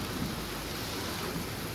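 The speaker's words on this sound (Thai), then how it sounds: "ตอนนี้ฝนตกแห้งขนาดเลยพี่น้อง พายุเข่าเนาะ พายุเข่าอย่างนักเลย" Steady, dense roar of heavy rain during a thunderstorm with a low rumbling undertone, continuous and unbroken, no voices.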